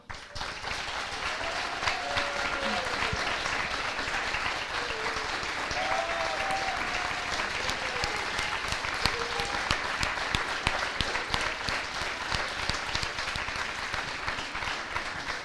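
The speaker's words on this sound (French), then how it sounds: "On va alors les accueillir, on peut les applaudir très fort." An audience applauds the finalists of an eloquence contest final in Le Mans, a dense, steady wash of clapping sustained throughout, with faint voices and a few whoops rising above it.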